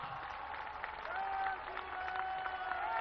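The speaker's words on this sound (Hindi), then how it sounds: "सभी लोग आगे से पीछे तक जोरदार तालियों के साथ" A crowd at a Dussehra celebration in Delhi claps loudly and continuously. A thin, sustained melodic tone runs beneath the applause for its whole length.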